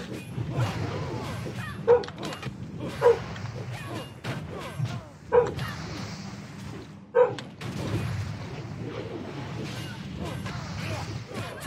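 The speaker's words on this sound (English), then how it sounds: "Oh, my dog's barking at something." A dog barks somewhere off-mic. Several muffled barks come at irregular intervals under steady background noise.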